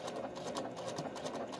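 Sewing machine stitching a quarter-inch quilting seam in African print fabric, a steady close whirring hum with rapid needle pulses running continuously throughout, no talk.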